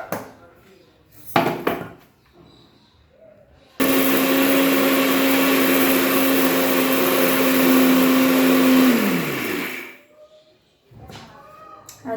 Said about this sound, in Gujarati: આપણે ઘરે એને મિક્સરમાં જ પીસીશું